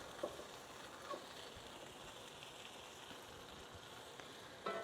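Potatoes frying in a pan on medium-low heat, a faint, steady sizzle with light crackles and occasional soft stirring clicks, no voices.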